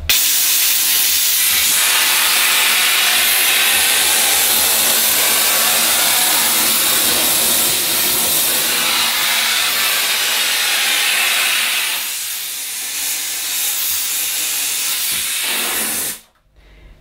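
A Dupray Neat steam cleaner blasts steam under a shower screen in a steady, loud, close hiss, easing briefly near the end before cutting off abruptly.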